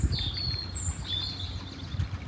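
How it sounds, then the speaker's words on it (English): Birds singing by a canal in spring, a few thin high chirps and whistled notes drifting at moderate distance over a low, quiet outdoor rumble, faint but clear with no talk. "isn't it nice hearing the birds?"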